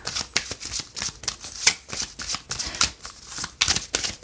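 Tarot cards being shuffled by hand: quick, papery riffles and slaps that come in irregular bursts, close up, with no voices.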